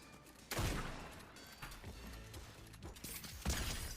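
Shotgun fire in a battle-royale style video game, with several loud, sharp blasts spread over a few seconds amid busy gameplay sounds; no talk is heard.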